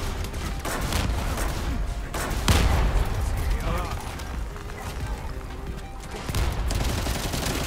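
Launcher weapon fire in The First Descendant, a dense stretch of booming shots and blasts over continuous game combat noise, with a heavier impact near the middle, under players talking.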